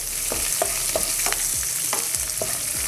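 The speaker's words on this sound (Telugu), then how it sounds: "వీటిని కూడా లైట్గా వేయించుకుందాం." Curry leaves, green chillies and chopped onions frying in a pan, a continuous loud sizzle broken by repeated scraping strokes of a spatula, close and unaccompanied by voices.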